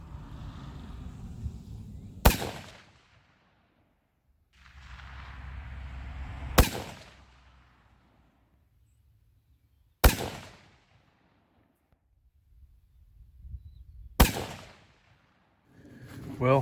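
7mm-08 rifle firing factory 140-grain Ballistic Silvertip rounds, four sharp, loud separate shots spaced several seconds apart, each ringing out briefly, with quiet outdoor rumble and handling noise between them.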